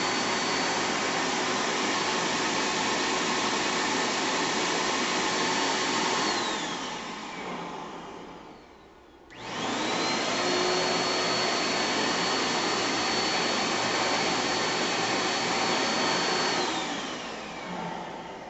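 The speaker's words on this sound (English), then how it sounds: "because it's a vacuum cooler, it actually is pulling the thermoplastic glue up into the backing" A vacuum seam cooler used for carpet seaming runs with a steady loud electric whine, cuts out briefly midway with a falling pitch, then spins back up and keeps droning.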